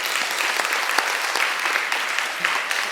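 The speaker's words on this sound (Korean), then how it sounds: "자, 여러분 박수 한번 보내주세요." Church congregation applauding during an evangelism training seminar, steady broadband clapping from a roomful of people, fairly close and even throughout with no talking over it.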